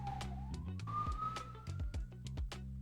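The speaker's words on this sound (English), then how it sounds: "There's a siren apparently stuck in traffic directly below my window." A wailing emergency vehicle siren stuck in traffic directly below an upstairs window, its tone sliding slowly upward, heard faintly and somewhat distant over low rumbling street noise.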